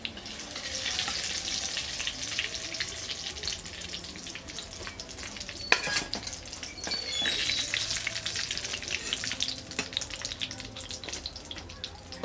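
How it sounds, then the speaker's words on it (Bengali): Fish cutlets sizzle gently in a small amount of oil over low heat, a steady crackle and hiss with occasional sharper pops and faint utensil sounds. "একদম অল্প আঁচ দিয়ে মুচমুচে করে ভাজতে হবে"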